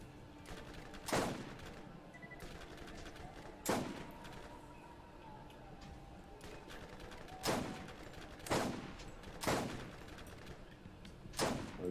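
Turret gunfire from the Borderlands video game comes as sharp, loud bursts at irregular intervals over a low, steady game background.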